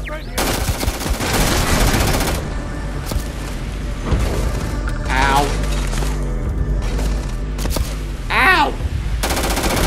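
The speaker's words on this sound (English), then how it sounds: "Stop firing at me." Rapid, loud automatic gunfire from the space game Starfield, bursts of shots crackling close together with booming impacts between them, and a voice speaking over the shooting at times.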